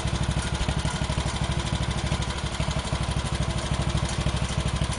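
A Speedex engine running after a carburetor rebuild, a loud, close, steady rapid putter with an even chugging rhythm throughout and no talk.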